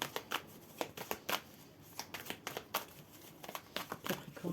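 Tarot cards being shuffled by hand, a run of crisp riffling and flicking bursts in an uneven rhythm, close and fairly quiet, with no talking.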